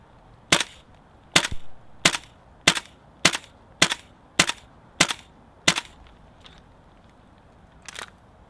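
A Tokyo Marui M4 MWS airsoft rifle fires green gas outdoors in the cold with about nine sharp, close cracks at a steady semi-auto pace, each with a short hiss tail, then one fainter shot after a pause.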